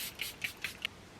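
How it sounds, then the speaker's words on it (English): Charlotte Tilbury setting spray misted onto a face: a few quick, soft spritzes in a row, each a brief airy hiss, close and fairly faint in a quiet room. "Skin prep done, so of course a little setting spray,"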